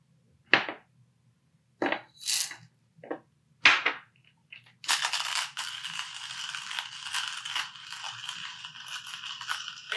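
Expensive coffee beans crunch and crack in a grinder, beginning with a few sharp separate bursts before a steady, grinding whir takes over, close and fairly quiet.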